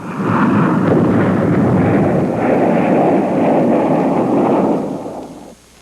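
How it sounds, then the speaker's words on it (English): Airstrike explosions, a continuous loud rumbling roar of blasts and booms that holds for several seconds before fading out, with no voices. "the combat cameraman records airstrikes against the enemy below him"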